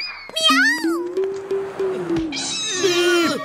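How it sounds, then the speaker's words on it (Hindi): A loud, close cartoon cat meow rising and falling, followed by a long drawn-out yowl and another whiny meow at the end. "ये बिल्ली तो मेरे पीछे ही पड़ गई है"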